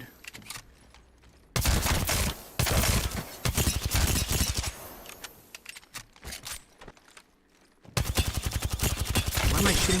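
Gunfire in the Apex Legends video game, rapid bursts of automatic shots in loud dense volleys separated by short quieter gaps, close and sharp.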